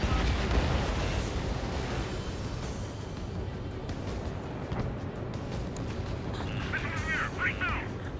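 An anti-air gun blows up in the Ace Combat 7 flight game, a deep rumbling blast layered over constant jet engine roar and battle noise, with radio chatter in the mix.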